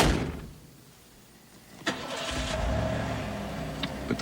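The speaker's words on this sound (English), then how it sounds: "Start the car." A car engine cranks and catches about halfway through after a quiet stretch, then settles into a steady running rumble, close and fairly loud, with no talk over it.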